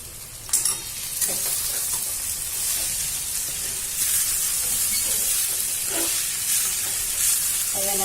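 Onion and flattened rice for kande pohe sizzle loudly while being stir-fried in a pan over full gas flame, a steady dense frying hiss with occasional scraping stirs, close and continuous.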